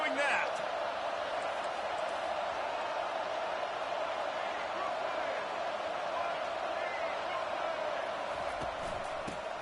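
A college football video game stadium crowd, UNC against Florida, roars as a steady, dense wash of cheering that holds at an even level throughout, with no clear voices standing out.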